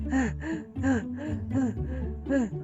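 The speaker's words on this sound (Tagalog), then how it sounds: "Bakit hinihingal ka?" Heavy, rapid panting close by from a person in a Filipino animation who has been chased by a dog, six or so voiced, breathy gasps in a steady rhythm, with no talking.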